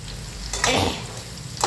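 Onion bhaji fritters frying in hot oil in a wok, a loud close sizzle with a sudden hissing burst as batter drops in and crackles.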